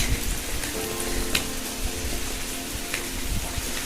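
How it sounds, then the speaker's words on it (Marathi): Rain falls in a Ratnagiri village in Maharashtra, a steady hiss of drops on surfaces with occasional closer spatters, easing off while remaining fairly loud and constant. "पाहू शकता थोडं कमी होत आलाय पाऊस"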